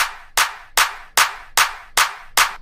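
Claps in an electronic track's build section land in a steady run of seven sharp, bright hits with short reverberant tails, loud and up front with nothing else around them.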